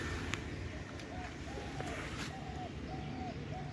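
Pigeons cooing outdoors near trees during a midday walk, soft repeated coos at a moderate distance over a rumbling background, with a few faint bird chirps.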